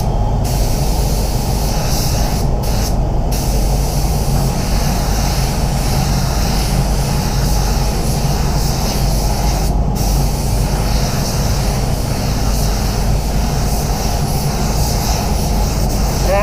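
Spray gun laying metallic paint on a GT Mustang at low pressure, a loud continuous hiss with steady air rush throughout and a few brief breaks in the spray.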